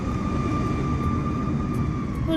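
Steady, loud airplane engine drone from Microsoft Flight Simulator, a continuous jet-like roar with a constant hum and no talking over it.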